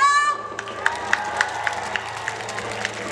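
A music festival audience gives thin, scattered applause for a band's bass player during an outdoor show. The sparse individual claps and crowd murmur follow a short tone at the start.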